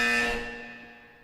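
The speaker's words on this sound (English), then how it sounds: "That's a lot of buzzers." A buzzer sounds in one sustained, harmonically rich blare that starts loud and slowly fades away over about a second, with no talk over it.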